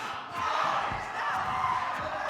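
Crowd at a Super Smash Bros. Ultimate esports tournament losers final, a dense, steady roar of cheering and shouting that holds loud and unbroken throughout.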